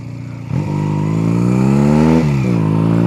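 A Honda Rebel bobber motorcycle revs up on the road, its engine loud and close. The pitch climbs steadily, drops briefly at a gear change, then rises again.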